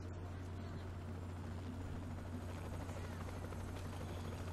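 Helicopter in the video game Saints Row The Third, a steady loud rotor and engine drone with a strong low hum running continuously throughout.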